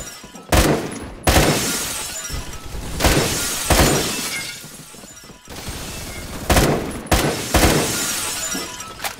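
Window glass shattering again and again in the shooter game Phantom Forces, loud sharp crashes amid gunfire, repeated every second or two, with no talk.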